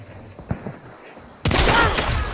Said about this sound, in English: I don't know what that shot was at.